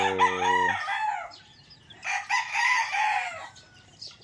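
Free-range chickens about three months old crow and cluck nearby, a clear rooster-style call opening, then a second burst of loud clucking and squawking, with no talk.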